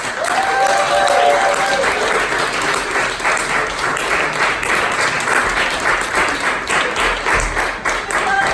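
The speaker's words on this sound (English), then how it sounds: "give them a round of applause" An audience at an improv comedy show applauds the contestants with steady, dense clapping that stays loud and continuous from start to finish.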